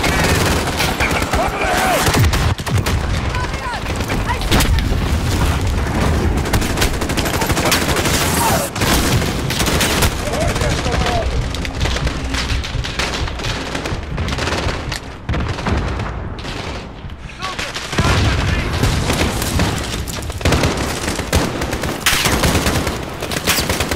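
Airstrike explosions and heavy gunfire in the Call of Duty: Modern Warfare video game, dense continuous bursts of automatic fire and booms, loud and sustained throughout.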